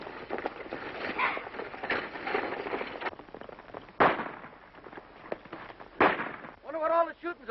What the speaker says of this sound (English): Wonder what all the shooting's about.